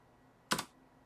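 A brief burst of computer keyboard keystrokes, a quick cluster of clicks on a Windows PC, close and fairly quiet against a near-silent room.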